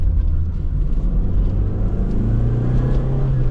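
A 1987 Dodge Shelby Charger turbo engine drones at low revs inside the cabin, a steady rumble with slight shifts in pitch as the manual gears change.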